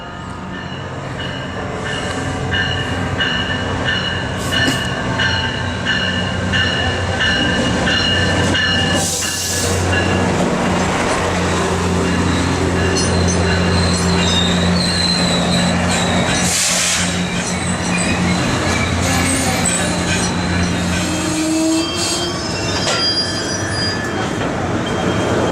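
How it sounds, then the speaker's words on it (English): A MARC commuter train slows for a station stop in Aberdeen, its brakes and wheels giving off loud, sustained metallic squeals over a steady low rumble of the railcars rolling close by, with bursts of shriek that rise and fade throughout. "A MARC commuter train about to make a station stop."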